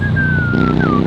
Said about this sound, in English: Oh, that motorcycle in the back.